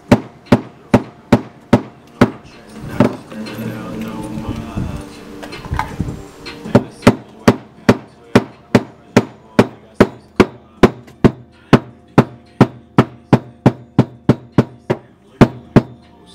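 Hammer blows flatten a car's metal floorboard for a roll cage install, loud regular strikes in a steady rhythm near the listener, with a brief stretch of rustling and handling midway.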